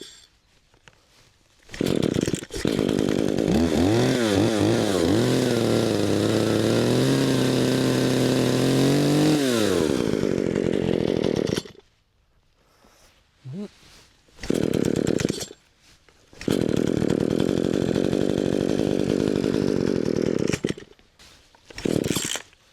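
A chainsaw engine runs after an adjustment to its carburettor idle screw. It roars loudly and revs up and down, drops out to near silence, then restarts with a couple of short bursts and another long, steady run, close by.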